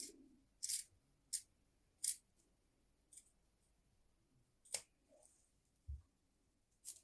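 Scissors snip into stitched blouse fabric up to the circle marks, making a handful of short, crisp, quiet cuts spaced irregularly over a near-silent background.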